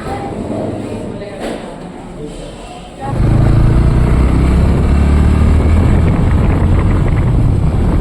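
Steady engine rumble and wind rush from a motorcycle cruising along a clean road between Guwahati and Shillong, growing louder and fuller after a few seconds, with someone talking over it.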